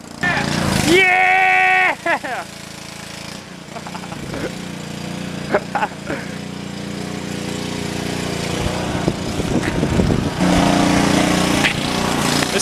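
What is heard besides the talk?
gas power washer running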